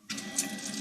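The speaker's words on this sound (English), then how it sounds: "it is spraying the water" Electric bidet wand on a SmartBidet SB-3000 toilet seat spraying water, a sudden steady hiss of spray starting sharply and continuing evenly, close and alone.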